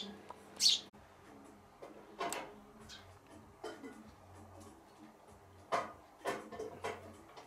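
A tree sparrow chirps in brief, scattered bursts during an evening walk, bright and fairly near, mixed with soft ticks and faint background rustle and murmur.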